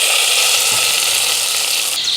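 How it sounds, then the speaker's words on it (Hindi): Hot oil tempering for moong dal cooked in a clay pot fizzes in a loud, steady, close sizzle that runs unbroken throughout. "अब तड़का लगा दूँगी दाल को।"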